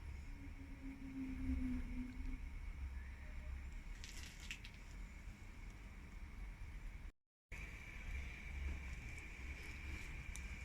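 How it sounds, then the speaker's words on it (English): A steady, faint hiss from the blower on a coal-fired Accucraft Edrig live steam locomotive, running continuously under low background rumble with a brief burst of brighter noise partway through. "I'll just crack open a fraction of the blower here, just to help the electric blower on the chimney."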